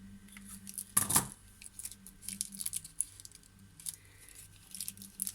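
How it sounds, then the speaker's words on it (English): Scissors cutting the tip off a small piping bag of air dry clay, one sharp close snip followed by faint crinkling and light handling clicks of the plastic bag, no talking. "I'm just going to cut off the edge, the bottom,"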